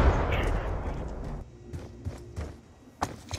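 Gunshots in a first-person shooter video game 1v1 match: a loud blast at the start, then several sharp shots spaced out, with a burst near the end.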